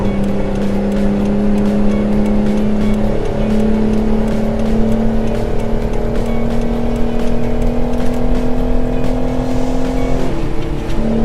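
Kenworth 521 truck overtaking in American Truck Simulator, a loud steady engine drone with a slowly rising pitch as it accelerates, then a brief shift near the end, no talk.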